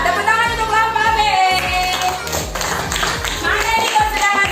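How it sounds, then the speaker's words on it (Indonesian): A group of primary school pupils in a classroom clap their hands together over music, with sharp rhythmic claps in a patterned beat rather than loose applause. "Tepuk tangan untuk kelompok B."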